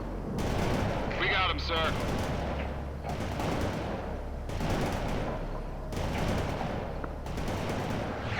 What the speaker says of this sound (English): Hostiles in our sight. Laying down suppressing fire.